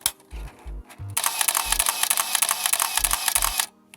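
Harman Phoenix 200 film camera with a battery and no film inside, its motor whirring in a long buzzing run after a few mechanical clicks, close and alone.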